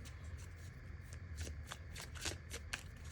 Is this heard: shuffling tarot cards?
yes